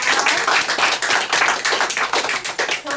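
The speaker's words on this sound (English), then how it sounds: "Can we clap for Andrew again" An audience applauds a poet at a poetry reading, dense steady clapping from many hands throughout, fairly loud and close with no talk over it.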